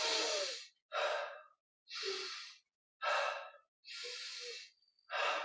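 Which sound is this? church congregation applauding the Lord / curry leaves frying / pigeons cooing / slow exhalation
slow exhalation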